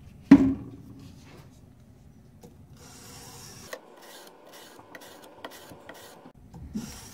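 A drawknife blade being honed by hand on 320 grit sandpaper: quiet, rhythmic rasping strokes that repeat steadily, after a sharp knock at the start and a short stretch of near silence.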